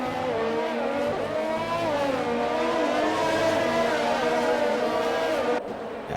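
Racing cars in an F1 video game on Xbox at the Mexican Grand Prix roar steadily and loudly, engines rising and falling in pitch as they rev.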